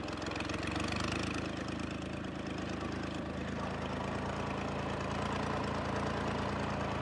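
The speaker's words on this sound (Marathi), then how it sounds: "ट्रॅक्टर होता ट्रॅक्टर चाललो" A tractor engine runs steadily on a farm by marigold plants, a constant low rumbling drone with even mechanical knocking, moderately loud and without pause.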